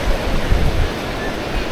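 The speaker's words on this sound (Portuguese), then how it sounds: "Essa parte mais ao norte, ela já tem uma quantidade de ondas mais fortes." Strong ocean waves break along the northern stretch of Praia dos Ingleses beach in Florianópolis, making a steady, loud rushing surf roar with wind noise throughout.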